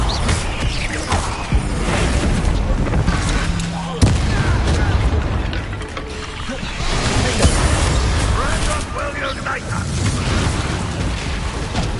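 Bombarda spell explosions in the video game Hogwarts Legacy, heavy booms and mechanical clatter amid ongoing combat effects, loud and dense, with voices talking over the action.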